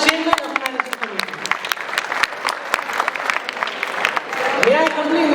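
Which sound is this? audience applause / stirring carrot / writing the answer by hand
audience applause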